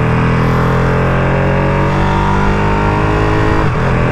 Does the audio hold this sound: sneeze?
no